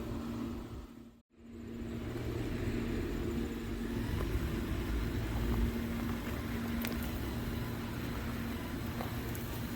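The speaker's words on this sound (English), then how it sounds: "So got another tractor going by right now" A passing tractor gives a steady, continuous engine drone at moderate distance, broken only by a brief dropout near the start.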